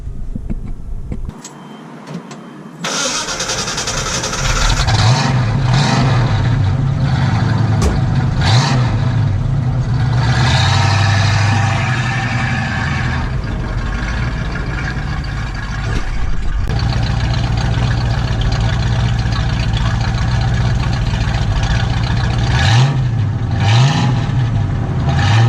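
A 1969 Ford Mustang convertible fitted with a louder exhaust cranks and fires up after a brief pause. It then runs loud and close with a deep, rumbling idle and occasional revs that rise and fall for the rest of the time.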